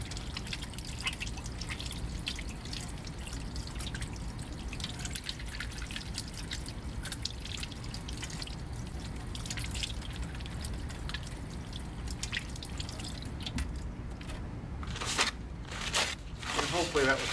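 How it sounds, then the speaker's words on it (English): Running water from a sink tap streams steadily while hands are washed and scrubbed with soap, a constant close splashing trickle with brief sharper splashes near the end. "I'll go ahead and start the sink, get my hands damp, then put the soap on, and then again scrub"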